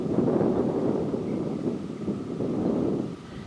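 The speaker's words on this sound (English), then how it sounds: "It's gusty." Gusty wind buffets the microphone outdoors at a model airplane flying field where an E-flite Super Timber 1.7 is climbing, a steady, loud low roar that swells and eases across the whole stretch, with no talk.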